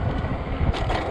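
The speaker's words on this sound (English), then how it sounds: "it's very windy" Gusty wind buffets the microphone during a fat-tire e-bike ride on a 48-volt 20-inch Ecotric, a steady low rumbling roar with a brief stronger push near the end, close and moderately loud.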